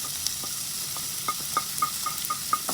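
Ginger, garlic, green chilli and onion sautéing in hot oil, with a steady close sizzle and a series of light, regular spatula taps against the pan near the end.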